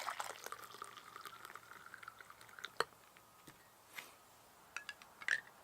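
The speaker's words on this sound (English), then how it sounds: "Pour a little hot water in there." Hot water is poured into an MRE pouch, a quiet, close trickle with small splashes and drips that comes in short bursts over several seconds, no talking.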